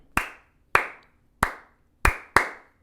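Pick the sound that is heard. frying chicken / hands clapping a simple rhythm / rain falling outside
hands clapping a simple rhythm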